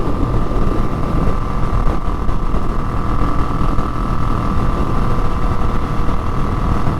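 A Kawasaki Vulcan Classic 900 motorcycle cruising along, its engine a steady, loud, continuous drone with road and wind noise that hardly varies.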